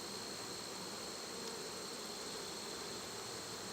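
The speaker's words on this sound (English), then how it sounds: "Big old mass of bees, she might be in there." A big mass of honey bees inside an open hive makes a dense, steady buzzing drone, close and unbroken, with no voices.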